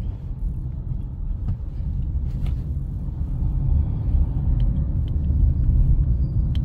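Car engine during a manual-transmission driving lesson, a steady low rumble that swells gradually toward the end as the vehicle accelerates, heard from inside the cabin with no talking.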